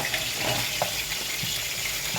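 Minced meat sizzles and fries in a pot on the stove, a steady close hiss with faint stirring clicks and no talking.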